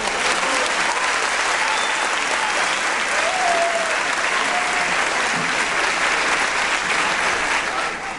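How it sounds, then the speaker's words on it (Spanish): Dense, steady applause from a large audience at a national conference on technical and professional education, clapping loudly and evenly for about eight seconds before easing off slightly at the end. "Con las palmas de todos."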